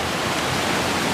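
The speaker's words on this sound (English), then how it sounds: "We're at the top of Huntfish Falls." Huntfish Falls on Wilson Creek pours in a loud, close, continuous roar of rushing water that fills the whole moment without any voices.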